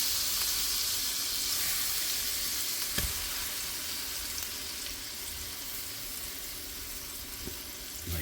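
Pork chops fry in a Lodge cast iron skillet as a steady, even sizzle, with a couple of faint knocks and no talking.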